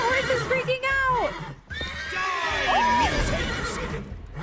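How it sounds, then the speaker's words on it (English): Horses in The Witcher 3 whinny and neigh in agitated, rising-and-falling calls, several overlapping across a few seconds, with game sounds and a voice mixed in. "Why are the horses freaking out?"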